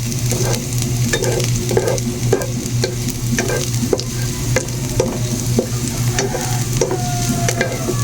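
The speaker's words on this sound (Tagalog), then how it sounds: "Hintayin na mag-brown para masute. Para maglasa yung bawang." Garlic sizzles steadily in a hot pan for a vegetable sauté, a continuous close frying hiss punctuated by regular scraping and stirring taps of a utensil, with no talking.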